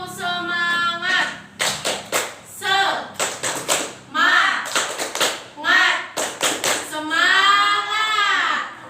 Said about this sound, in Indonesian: Ibu akan mengajak kalian untuk tepuk semangat